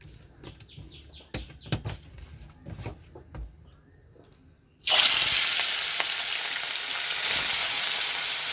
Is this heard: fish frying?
yes